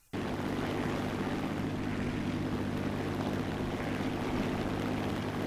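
A Heinkel He-51 B-1 biplane's propeller engine in War Thunder, on the Near East map, drones steadily and loudly throughout, with no talk over it.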